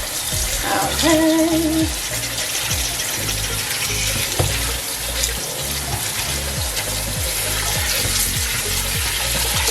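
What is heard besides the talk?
water running while rinsing sea moss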